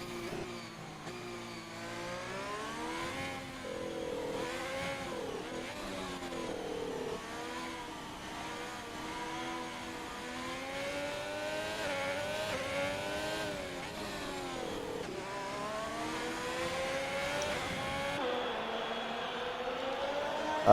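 Race cars in an XNA racing video game league round at Hungary howl around the track, their engine notes rising and falling through gear changes in a steady, continuous roar with no talking.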